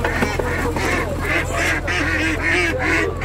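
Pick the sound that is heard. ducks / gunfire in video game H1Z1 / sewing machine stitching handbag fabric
ducks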